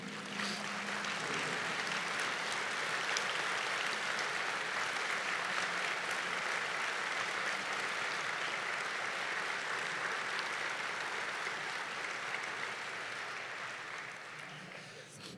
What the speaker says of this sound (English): would you stand so we give you a round of applause?